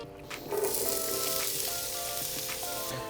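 Onion sizzling in hot oil at the start of a classic mushroom risotto, a steady, close crackling fry that swells after a moment and holds evenly throughout, with no voices.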